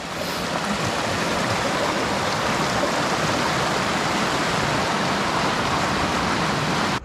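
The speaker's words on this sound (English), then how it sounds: "And over here, a waterfall, and all we can see is that little bit of it, but it goes all the way down." A waterfall on a mountain backpacking trail among glaciers and limestone peaks, giving a steady, dense roar of falling water that holds loud and unbroken throughout, with no voices.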